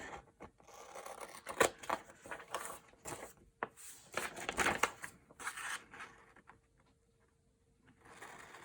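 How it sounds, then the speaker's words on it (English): Scissors snipping through paper for a junk journal, a few sharp cuts and crisp rustles close by, with quiet pauses in between and no talking. "so now let's just try to cut this again, try to cut it straight."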